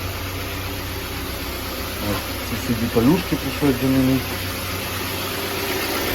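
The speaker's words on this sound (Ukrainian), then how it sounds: "Зараз мотор працює, все рівненько." A Volkswagen Tiguan engine, freshly fitted with a replacement cylinder block, idles with a steady low hum and a hiss beneath it while someone talks over it.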